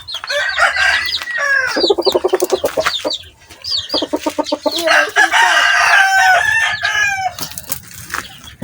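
Hens and pullets cluck and squawk in a steady, busy chorus close by, with bursts of rapid repeated calls and a brief crow-like cry among them; no talking.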